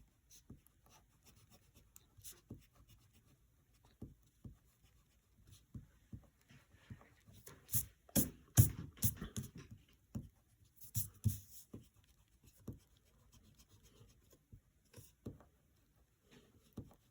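A pencil drawing of a Teenage Mutant Ninja Turtle is worked over with an eraser, giving quiet scattered rubbing strokes that build into denser, louder bursts of scrubbing midway, close and faint, with no talking.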